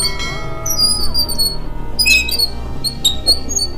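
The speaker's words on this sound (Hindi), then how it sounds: "जो कि है साइकिल के रिम की आवाज।" A squeaking bicycle wheel rim gives off shrill, high squeals and chirps that come in repeated bursts over a low background rumble, loud and close, with no talking.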